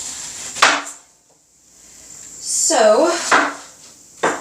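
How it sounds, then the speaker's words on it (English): A knife slices peeled apples into small pieces for a slow-cooker apple pear sauce: a few sharp, close cutting knocks spaced apart, with a brief spoken word between them. "I'm just going to go ahead and slice them up into small pieces."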